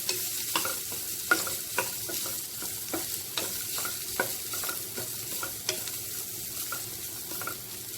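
Grated coconut roasting in a hot pan while being stirred, a soft steady sizzle broken by repeated scraping strokes of a spoon at a regular pace, close and moderately quiet.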